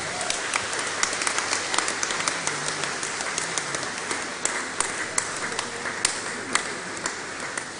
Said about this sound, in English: could you please give the Lord a celebration with clap?